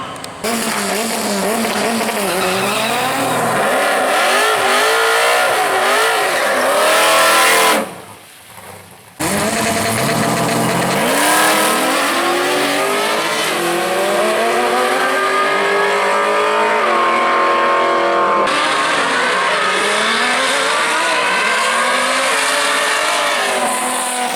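Drag race cars, including a 1998 Honda in the left lane, revving loudly at a raceway and launching with rising engine roars and tire noise, a brief drop in the middle, then more screaming acceleration.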